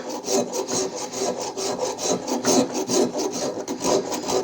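A hand file rasps across the wooden handle of a Collins axe clamped in a vise, working on the pull stroke in a steady rhythm of close, even scraping strokes with no talking.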